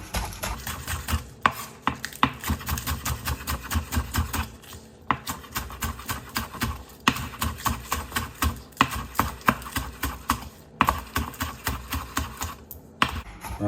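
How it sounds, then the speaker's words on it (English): Scallion stalks are chopped with a knife on a board, in rapid, steady rhythmic taps with brief pauses between runs. Close and crisp, with no talking. "I'm just gonna go ahead and chop my scallion"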